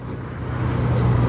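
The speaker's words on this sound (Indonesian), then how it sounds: "Ada kemacetan sedikit ya." Road traffic idles and creeps near Sembahe, a close, continuous low engine rumble that swells slightly as a vehicle moves nearby.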